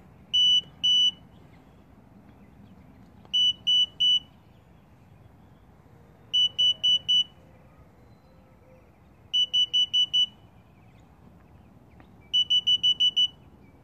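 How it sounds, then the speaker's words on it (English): Bursts of high electronic beeping from a Tesla Model 3 Hansshow power trunk during setup repeat every few seconds, the groups growing from two to six quick beeps, over a low indoor rumble. "Okay, we're gonna go 6 beeps still."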